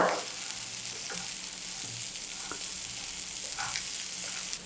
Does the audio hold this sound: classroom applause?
no